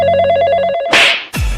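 A telephone rings with a fast, trilling electronic bell pattern, loud and close, then stops abruptly and gives way to a couple of rough handling noises.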